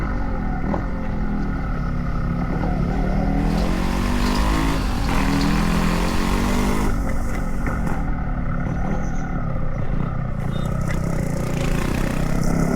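Yamaha RX135 motorcycle with an open exhaust, its engine running with a steady, loud, close rumble that continues unbroken throughout, with no voices.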